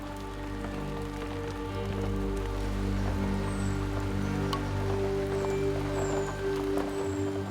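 Steady rain falls on a Magoebaskloof forest, a constant soft patter and hiss of drops throughout, with faint bird calls now and then in the background.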